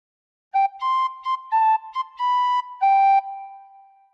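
A short phrase of Pop Goes the Weasel on a tin whistle, about eight clear notes in a bouncy rhythm with brief gaps, the last note held and fading, played solo and close.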